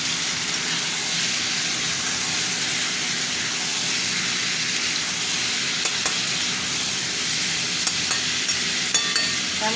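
Chicken curry with tomatoes stirred in a frying pan, a steady loud sizzle and hiss with occasional scraping clicks from the spoon, no voices.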